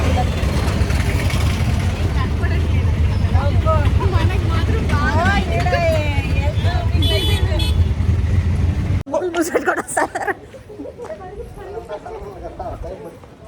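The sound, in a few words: riding in an auto rickshaw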